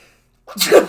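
A single sharp, loud sneeze bursts out close by after a moment of silence.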